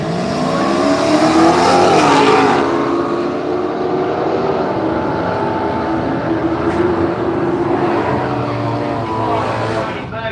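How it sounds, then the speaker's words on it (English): Drag racing cars at Willowbank Raceway in Australia, a loud, sustained engine roar that builds and slowly fades as the cars run down the strip, with a commentator talking underneath. "Dave Tucker runs 736, 92 miles per hour in the Rocket Industries lane."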